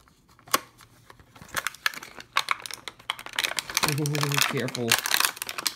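Metallic Sally, a Porsche toy car, being pulled from stiff plastic and card packaging: sharp crinkles, clicks and tearing rustles building in density, with a person talking briefly over the handling.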